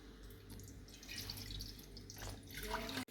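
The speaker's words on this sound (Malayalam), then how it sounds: "നമുക്ക് ആദ്യം തന്നെ കുറച്ച് വെള്ളം ഒഴിക്കാം." Water poured into a cooking pot to start chicken noodles, a steady splashing, trickling stream at moderate level for about three seconds, rising slightly near the end before a sharp cut.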